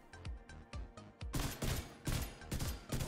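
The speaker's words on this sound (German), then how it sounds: "Wir ballern. Wie gesagt, wir haben richtig viel Schuss mit der Ravenous." Rapid bursts of gunfire from the Ravenous rifle in The Division 2, a quick run of sharp shots that grows into a louder, denser volley, heard alone without talk.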